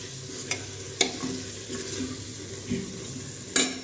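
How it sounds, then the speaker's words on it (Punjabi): Aloo matar curry being stirred in a pan, with a soft continuous sizzle broken by a few sharp scrapes and clinks of the spoon against the metal, up close and with no talking. "ਹੁਣ ਅਸੀਂ ਨੂੰ ਚੰਗੀ ਤਰ੍ਹਾਂ ਮਿਕਸ ਕਰ ਲਵਾਂਗੇ"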